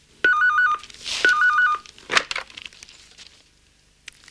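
An old-style telephone bell rings in two trilling bursts, each about half a second long, separated by a short pause, loud and close. Clattering handling noise follows as the receiver is picked up, then the sound fades to quiet.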